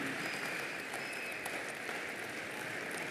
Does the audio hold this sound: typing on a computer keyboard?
no